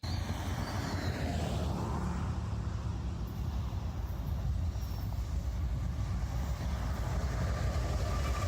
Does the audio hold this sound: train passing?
yes